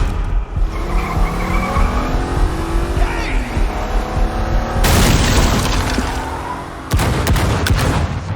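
Car ramming a barricade during a Batman Telltale game chase: engine roaring and tires squealing with rising revs, then a loud crashing burst and another heavy impact later, all close and loud.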